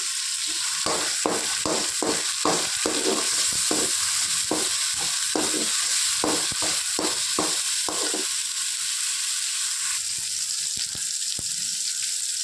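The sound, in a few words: onion, ginger-garlic paste and coriander frying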